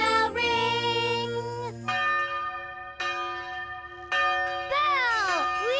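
A ringing Christmas bell sounding several loud, sustained metallic tones in succession, each strike blooming and slowly decaying, close and bright, in a festive holiday setting.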